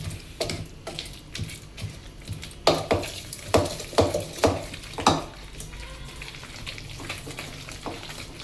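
Gongura leaves stewing in oil in a pan without water, a soft steady sizzle under a run of sharp rhythmic scrapes and taps as a utensil stirs and mashes them, close and moderately loud.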